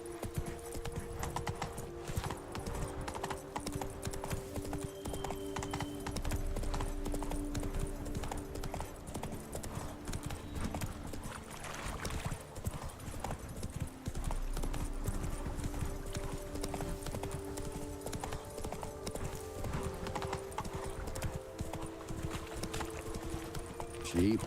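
A horse gallops in The Witcher 3: Blood and Wine, a dense, rapid drumming of hooves running continuously over a steady ambient background with no speech.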